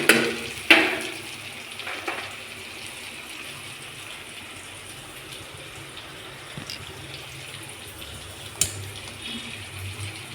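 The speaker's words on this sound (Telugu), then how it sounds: "నీళ్ళు వచ్చేసి ఇలా చిక్కుడుకాయలన్నీ వేసేసుకోవాలి." Water and boiled broad beans being poured into a sambar pot, opening with a couple of splashy clatters, then a steady wash of flowing water and a late splash.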